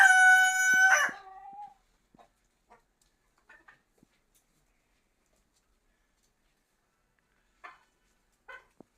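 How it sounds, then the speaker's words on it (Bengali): A Fayoumi rooster lets out a single loud crow at the start, then scattered soft clucks from Fayoumi hens and roosters follow faintly in near silence. "এগুলো আমার ফাউমি মুরগি"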